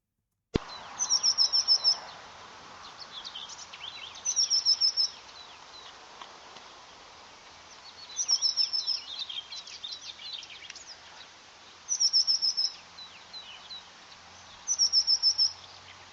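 Two birds sing in turn: short, high, bright chirping phrases repeat every few seconds over a faint hissy background, with softer warbling calls in between, fairly distant and quiet.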